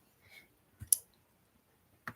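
A computer mouse gives a few sharp, isolated clicks against near silence, spaced irregularly over a couple of seconds.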